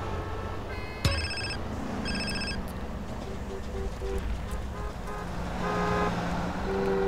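Mobile phone ringing in GTA San Andreas: a repeated electronic ringtone in short bursts over ongoing in-game car and street noise, with a sharp knock near the start and people talking.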